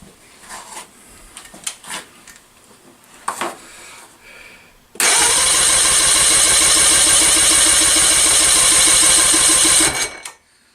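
A 1964 Evinrude outboard motor with low compression cranks over with the throttle open: a loud, steady, rhythmic churning that runs for about five seconds without catching, preceded by quiet handling noises and ending abruptly.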